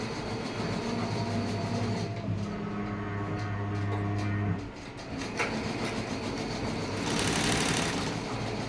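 An embroidery machine stitches a cutwork outline, its rapid, steady mechanical chatter running loud and close throughout, with a brief dip midway before resuming.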